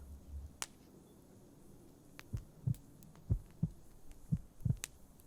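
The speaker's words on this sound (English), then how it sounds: "Sure, you can listen to my heartbeat." A slow, soft heartbeat thumps close and low in a quiet ASMR setting, with a series of muffled double beats at an even rhythm and no talking.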